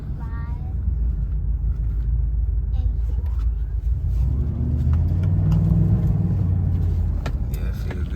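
Chevrolet Impala SS engine fitted with a K&N cold air intake, a deep steady rumble that swells as the throttle opens, heard from inside the car with people talking over it.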